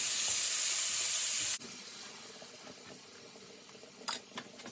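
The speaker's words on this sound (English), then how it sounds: "I'm just cooking these down in the butter a bit, just to get some flavors going" Chopped onions cooking down in butter in a pan for a seafood boil, a loud broadband sizzle that drops sharply, then a quieter steady frying with a couple of brief clinks.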